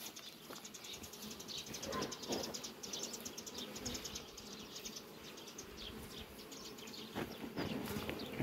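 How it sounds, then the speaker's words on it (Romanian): A bee buzzes steadily outdoors on a farm during pollen gathering on a spring day, amid a busy wash of insect hum and faint bird chirps, fairly quiet and continuous throughout. "Aici o frumoasă albină,"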